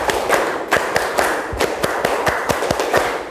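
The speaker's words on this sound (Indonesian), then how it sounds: "Tepuk konsentrasi." A classroom of students claps out a rhythmic concentration-clap routine, a dozen or so sharp, close handclaps in an uneven patterned beat.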